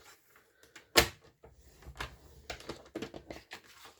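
A paper trimmer slices through card, giving one sharp, close cut followed by softer rustles, knocks and handling noises of the card and blade.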